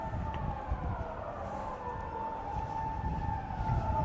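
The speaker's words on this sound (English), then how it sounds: "Kind of funny how like I hear a police car going on." A police car siren wails out on a city street in Tokyo, a rising and falling tone heard from a distance over a steady rumble of traffic and background noise.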